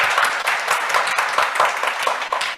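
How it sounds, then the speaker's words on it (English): Audience clapping rattles on continuously, a moderate burst of many hands with no voices standing out. "There's a lot of applause."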